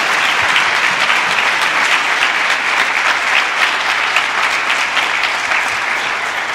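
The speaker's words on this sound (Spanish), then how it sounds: "Levanta una ofrenda de palmas a Cristo," Church congregation applauding during a sermon, a dense, steady wash of many hands clapping at close range, loud and continuous throughout with no voices rising above it.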